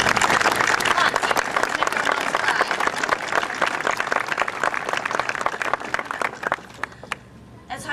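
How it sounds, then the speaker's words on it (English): An audience at a high school graduation ceremony bursts into sustained applause, dense clapping filling the hall for several seconds before thinning out and fading near the end. "let's take this opportunity to give them a round of applause"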